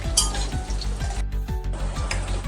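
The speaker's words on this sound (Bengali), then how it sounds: "রসুন কুচি, আদা কুচি আর লঙ্কা কুচি যখন ভাজবেন তখন গ্যাসের ফ্লেমটা একদম কমিয়ে দিয়ে ভাজবেন" Chopped garlic, ginger and green chilli sizzle in a pan over a low gas flame, with constant frying hiss and repeated scrapes and taps of a spatula stirring against the metal, close and without talk.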